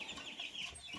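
Cornish cross meat chicks cluck softly and faintly for a moment, a quiet continuous chatter of young birds with no voices present.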